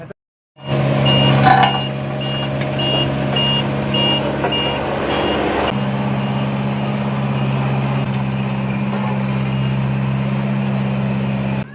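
A road roller working on a road emits regular reversing beeps over its low, steady diesel rumble, the beeps stopping partway while the engine keeps droning nearby, no voices.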